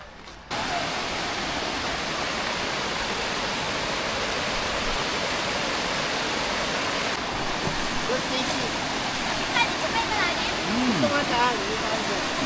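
River water at a campsite rushes steadily in a dense, continuous wash close by, with a brief splash or knock late on and no clear talk over it.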